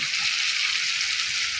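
Chicken browning in a pan for a white chicken dish gives a steady, even hiss of frying oil, close and continuous across the short moment with no talking.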